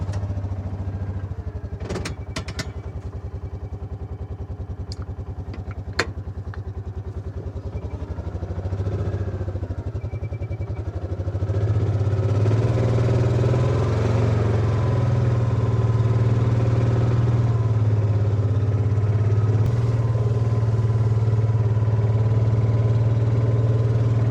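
A UTV engine idles and then rises to a louder, steady drone as it tows a livestock shelter, with some clatter early on and no talk.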